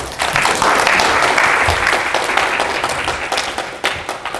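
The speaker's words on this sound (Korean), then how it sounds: "큰 박수 부탁드립니다." A PyCon APAC 2016 conference audience welcomes a speaker with loud, sustained applause, a dense crowd of hands clapping close and full before thinning slightly toward the end.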